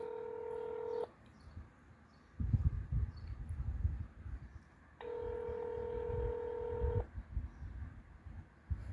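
A telephone rings on a call to a police precinct: two long tonal ring bursts separated by a pause, with faint background rumble and handling noise between them.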